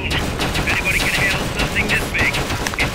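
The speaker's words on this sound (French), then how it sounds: "C'est un lance-roquette sniper" Rapid gunfire and weapon blasts from the Metal Gear Solid Peace Walker video game, with a sniper rocket launcher firing among them, crackle continuously through a busy battle mix with a voice talking over it.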